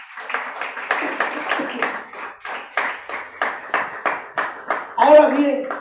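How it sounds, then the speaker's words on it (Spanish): A church congregation clapping at a sermon, a rhythmic series of sharp, close hand claps in an even beat, then a voice starts speaking at the end. "Den un fuerte aplauso a Jesucristo."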